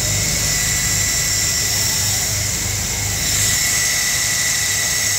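A V-belt-driven alternator on a running engine under a heavy 300-amp load gives off a steady whine and hum with a low engine drone beneath it. It runs continuously, with no squeal.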